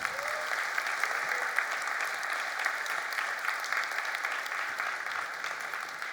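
Conference keynote audience applauding in a large hall, a steady, even wash of many hands clapping throughout, moderately distant and without a break.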